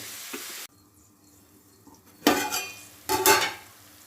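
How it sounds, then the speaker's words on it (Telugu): Bitter gourd frying in a pan gives a short burst of sizzling that cuts off, then two sharp bursts of stirring and sizzle follow, moderately close, with no one talking. "కాకరకాయ ఫ్రై చక్కగా మగ్గుతుందండి"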